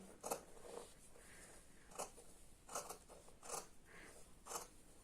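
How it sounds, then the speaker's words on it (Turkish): Scissors cut the front neckline of tunic fabric in a series of quiet, close snips spaced under a second apart, with no voices over them. "Şimdi ön yakamı kesiyorum."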